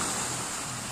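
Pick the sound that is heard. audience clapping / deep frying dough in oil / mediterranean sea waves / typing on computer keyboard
mediterranean sea waves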